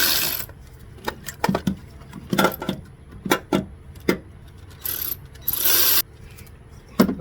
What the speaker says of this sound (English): So if we could get an air tool in there.